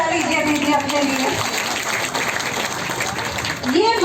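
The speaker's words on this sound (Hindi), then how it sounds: "एक ताली बजा लीजिए दीदी अपने लिए" Women from self-help groups clap at an outdoor public meeting in a village panchayat, a steady broadband patter of many hands lasting several seconds while a voice speaks over the start and end.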